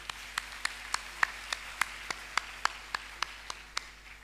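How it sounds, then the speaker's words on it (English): Slow, evenly spaced hand claps, about three per second, ring out at an academic year opening ceremony to honour teaching staff. They are sparse and moderately faint over a quiet hall. "Let's give a hand of applause for our academic staff."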